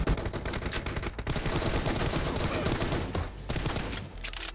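Gunfire in a PUBG team deathmatch, dense rapid bursts of automatic shots rattling almost continuously, loud and close, with a few brief gaps between volleys.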